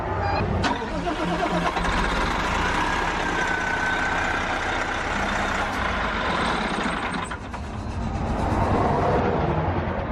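A truck engine runs steadily with its fan belt spinning while the fan clutch stays locked and the fan doesn't turn, a constant loud mechanical drone with a brief dip near the end.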